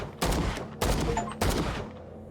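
Three loud bursts of gunfire from firearms shooting cult inhabitants in the Call of Cthulhu video game, each blast sharp and broadband with a ringing tail, spaced about half a second apart, with no talk over them.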